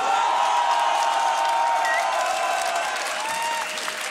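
A crowd at a beatbox loopstation battle breaks into loud, continuous applause and cheering, with whoops and whistles over dense clapping, sustained throughout and fading slightly at the end.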